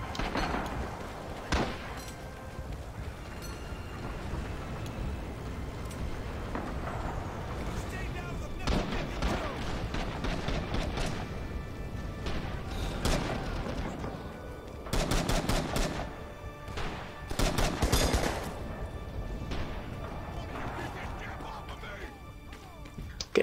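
Heavy artillery and gunfire roar steadily through a Rising Storm battle on Betio, with dense overlapping blasts and crackling shots and louder bursts around the middle. Faint voices come and go beneath the din.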